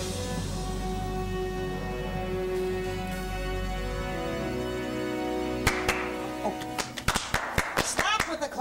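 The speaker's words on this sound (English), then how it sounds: "we thought it was customary maybe to clap when entering Mr. Gates' office" A small group claps hands indoors on entering an office, sharp irregular claps starting softly and building into a quick, close burst toward the end over a steady background hum.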